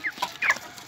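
Hens being set aside for raising at a small backyard chicken coop give a few short, close clucks and squawks, brief and fairly loud against a quiet background.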